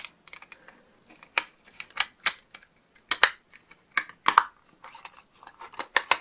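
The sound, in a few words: clicking a darts case shut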